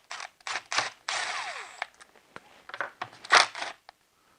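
T27 Torx screws are loosened on the mechatronics unit of a ZF 6HP19 transmission from an E90 BMW 335i, giving a close run of sharp metallic ratcheting clicks and short scraping bursts with brief pauses.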